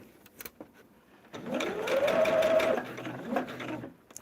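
Sewing machine running steadily for a few seconds while stitching the final seam of a star-patterned table runner, loud and close after a brief quiet lead-in.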